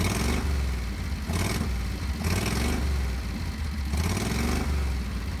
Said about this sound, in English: Let's see what happens when I rev the engine.